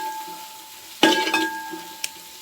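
A spoon stirring black pepper powder into chicken frying in a pan for a chicken curry: a faint steady sizzle, then one sharp scrape and clatter of stirring, followed by a brief lighter tap.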